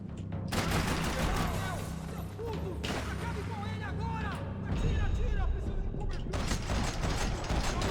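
Video game shooter gunfire cracks in rapid bursts and single shots over dense game noise and effects, loud and continuous throughout, with someone talking over the action.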